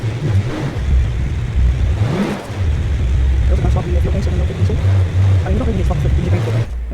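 A Jeep with an 8-litre V8 diesel engine climbs a hill, its deep engine rumble revving steadily and loudly beneath near continuous talking.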